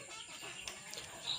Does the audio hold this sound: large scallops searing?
no